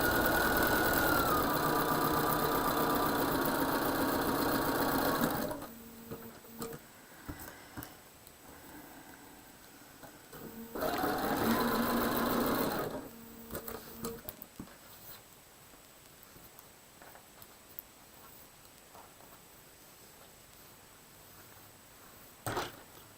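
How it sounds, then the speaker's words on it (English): A sewing machine stitches over a quilt seam line in two steady whirring runs of about five and two seconds, separated by quieter stretches with small clicks and handling sounds. "I'm just sewing over that seam line."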